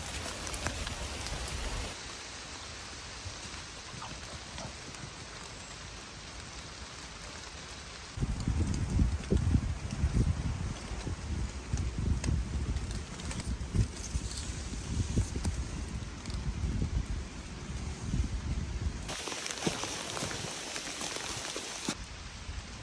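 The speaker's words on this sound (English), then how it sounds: "It's raining now." Steady rain patters through the forest canopy overhead in the Scottish Highlands, a constant hiss that grows heavier and denser partway through, with no voices.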